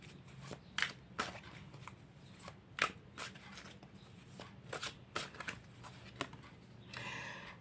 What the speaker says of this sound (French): je vais tirer une dernière carte pour pouvoir un peu confirmer tout ça